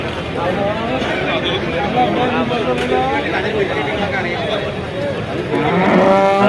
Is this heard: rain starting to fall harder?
no